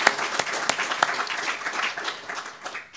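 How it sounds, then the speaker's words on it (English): A crowd applauds steadily, many hands clapping together at a fairly even level for the whole stretch. "Just give another round of applause."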